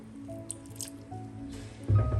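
Wet squishing and dripping as a little water goes into chicken marinade with ginger in a home kitchen, soft close handling noises that swell louder near the end, no talking.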